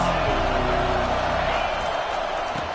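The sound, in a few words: college football stadium crowd noise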